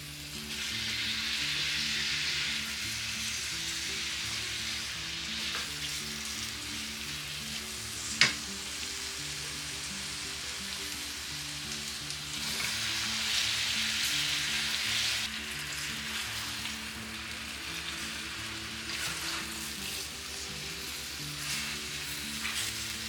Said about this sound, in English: for about 5 minutes I'm going to cook all my apples in just butter, nothing else